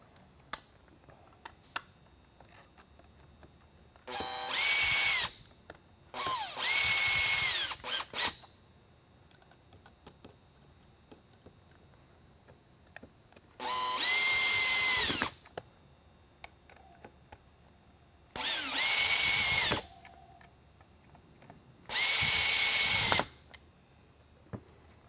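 A power driver whirs in five separate bursts, each lasting a second or two, as screws are run into a Whelen Pioneer SlimLine single worklight's cast housing, with quiet clicks and handling noise between bursts, close and loud.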